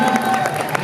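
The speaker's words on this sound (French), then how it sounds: "Continuez d'applaudir, il faut que je compte 23 fois, c'est le nombre minimum d'applaudissements." An audience claps and cheers for a Sith lord cosplayer at a 2017 cosplay parade, a brief burst of dense crowd applause with a few sharper claps standing out.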